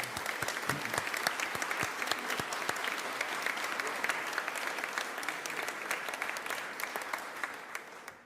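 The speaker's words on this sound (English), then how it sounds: "And she deserves a round of applause." A round of applause at a governor's press event on gun-related bills, sustained crisp clapping from a room of people with sharp individual claps, tapering off at the end.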